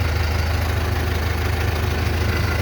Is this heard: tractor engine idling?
yes